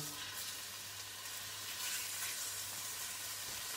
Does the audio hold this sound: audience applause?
no